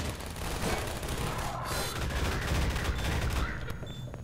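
Rapid turret gunfire in Half-Life 2 co-op rattles loudly and almost continuously through a dense, noisy game soundscape with explosive bursts.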